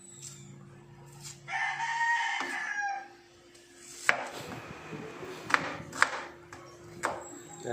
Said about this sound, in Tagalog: medyo may nahihiwa na po natin yung ating pong sibuyas